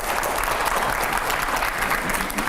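A TV9 studio audience claps loudly and steadily at a televised show with Arvind Kejriwal, a dense sustained applause with no talk over it.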